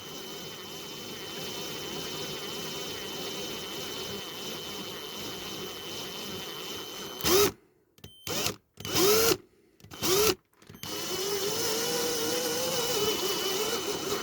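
Continuous high whining electric drill running steadily into a diecast model's metal base plate, then cutting in and out in short bursts before resuming a sustained buzz.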